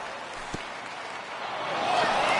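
Simulated stadium crowd at an MLB The Show 20 baseball game, over 39,000 fans on their feet, a steady roar of cheering and applause that swells louder toward the end.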